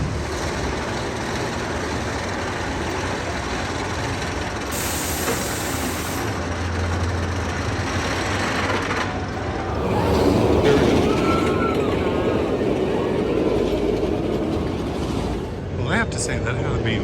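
Wonder Woman roller coaster train on a ride, a loud continuous rumble of wheels and rushing wind with rattling, heard from onboard as riders yell and talk.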